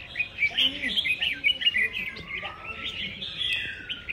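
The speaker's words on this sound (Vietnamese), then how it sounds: "1 tiếng 15 phút thì con chim mới bắt đầu ché" Pet songbird in a cage starting to sing: a quick run of bright chirps and warbling trills, lively and steady over four seconds, close and fairly clear with faint background noise.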